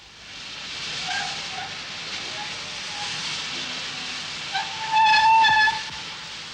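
Former London Transport steam locomotive L94, the last steam engine that operator used in 1971, rumbles and hisses steadily before a short, loud whistle blast rings out near the end.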